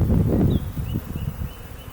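Low buzzing of honey bees close by, clustering around a sugar-water can feeder during a package installation, a busy hum with brief higher whines of individual insects passing, no talking.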